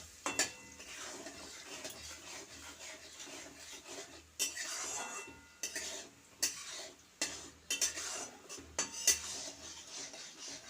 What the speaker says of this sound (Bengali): আমি মশলাটা কষিয়ে নেব আস্তে আস্তে কষিয়ে নেব